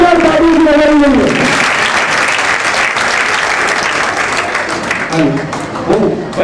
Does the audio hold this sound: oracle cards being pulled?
no